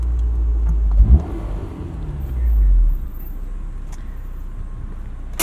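A 2003 Honda S2000 with 19k miles accelerates, its engine swelling into a brief low rumble and revving surge before settling into quieter cabin hum with faint clicks.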